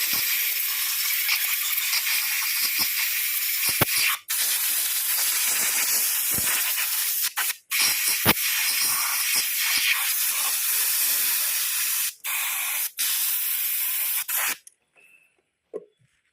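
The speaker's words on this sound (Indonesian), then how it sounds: "semprot menggunakan udara kompresor" Compressed air hisses loudly from a nozzle while blowing clean motorcycle engine valves, a harsh continuous spray broken by several short pauses before it stops near the end.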